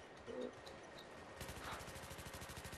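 Rapid, evenly spaced bursts of machine gun fire from the Battlefield 3 video game co-op mission, starting after a quieter opening and continuing as a steady rattling stream amid other battle noise.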